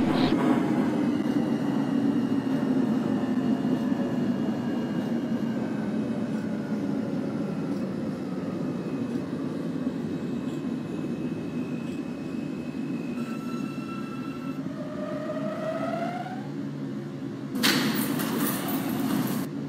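An NYCT R160A Alstom subway car on the F line in the OpenBVE simulator runs steadily with a loud continuous rumble and whine, with rising motor tones and a brief bright burst of wheel or brake noise near the end.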